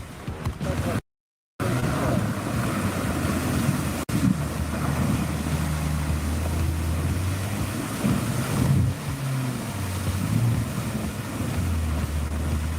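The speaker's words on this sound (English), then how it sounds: "In fact, the ATV is able to float, and it's quite stable on water." A floating ATV moving along a river, its engine a low steady hum under heavy wind buffeting and water wash, with a brief dropout near the start.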